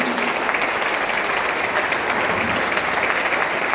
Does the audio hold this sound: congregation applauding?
yes